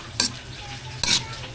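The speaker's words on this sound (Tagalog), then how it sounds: "Tapos haluin natin." Chicken pastil cooking in a pan is stirred twice, each stroke a brief scrape over a steady low sizzle, close and alone.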